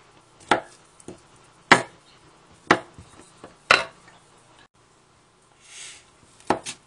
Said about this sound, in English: basically we just chop this in little pieces. Easier for frying